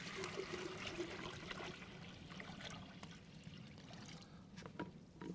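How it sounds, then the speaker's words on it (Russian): Cold water is poured into a cooking pot for shurpa, a soft continuous splashing trickle that stays faint and steady throughout. "Наливаем холодную воду."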